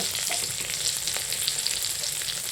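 Potol curry with kasundi stirred in a hot pan gives a steady close sizzle and frying hiss with soft stirring scrapes underneath, continuous and even throughout without speech.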